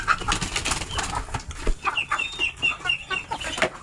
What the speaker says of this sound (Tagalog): Ang mga manok at pato.